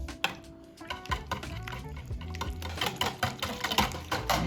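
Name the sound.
whisking pancake batter with a whisk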